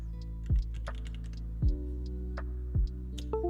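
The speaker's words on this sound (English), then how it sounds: "Alright, I think it's time for a typing test." Sparse, widely spaced key clicks and thocks from a rebuilt MB17 mechanical keyboard, a few deep keystrokes standing out, close and fairly quiet with no talking.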